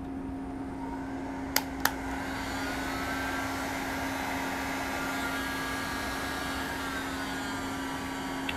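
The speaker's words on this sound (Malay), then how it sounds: "Dan kita akan hidupkan kita punya blower ni daripada power station ni." Electric blower powered by a portable power station and drawing about 895 watts, a steady loud whirring motor drone with a constant tonal hum, preceded by a couple of sharp clicks as it switches on.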